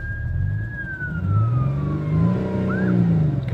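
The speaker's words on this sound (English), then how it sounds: "Car's running rough." An Audi 3.0 TDI diesel engine with an injector fault runs rough, giving a steady low drone, while a thin whistling tone glides slowly downward above it.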